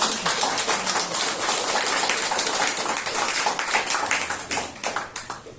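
A church congregation at a Sunday anniversary service applauds steadily for several seconds, a dense patter of many hands clapping at moderate distance with no voices over it.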